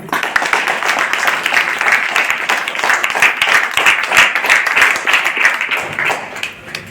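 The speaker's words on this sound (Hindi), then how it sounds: "ताली बजाओ बरोबर" An audience claps in a loud, dense and continuous round of applause at a DXN company talk, lasting about seven seconds.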